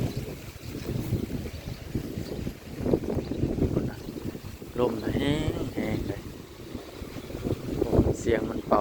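Gusty dry wind blowing against power lines, rising and falling in loud buffeting surges with a few brief whistling tones, under intermittent talk.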